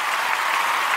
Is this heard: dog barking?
no